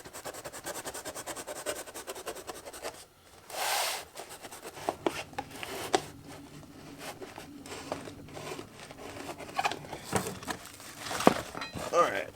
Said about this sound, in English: let's open this box up